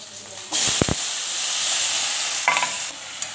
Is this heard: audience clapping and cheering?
no